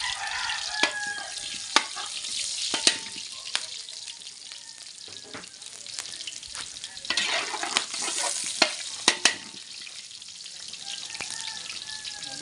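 Garlic and onion sizzle steadily in a pan while being sautéed for dinuguan, with occasional sharp clinks of a utensil stirring, close and fairly quiet with no talking.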